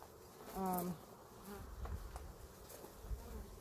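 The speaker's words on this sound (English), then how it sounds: "And got some guard bees on me." Guard honey bees buzz around a beehive during a honey harvest, a close insect drone rising briefly and then settling into a fainter, steady hum.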